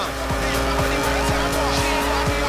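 A Volkswagen driving in the Forza Horizon racing game, its engine droning steadily up close with tire squeal and a rhythmic thumping over the road, with no talk.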